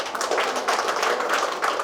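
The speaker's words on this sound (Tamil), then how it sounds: "ஸோ உங்களுக்கும் வந்திருக்கவங்களுக்கும் ஒரு மிகப்பெரிய கைத்தட்டல் கொடுத்துருங்க" Audience at a kolam contest prize distribution giving steady, dense clapping throughout, moderately loud and even with no talk over it.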